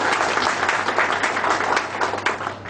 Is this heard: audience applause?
yes